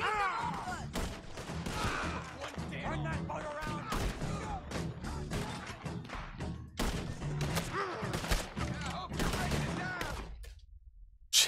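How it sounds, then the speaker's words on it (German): Rapid bursts of Red Dead Redemption 2 gunfire crackle almost nonstop for about ten seconds, dense and loud, with thuds and game effects mixed in, then cut to near silence. "du kriegst hier so viele Schüsse ab."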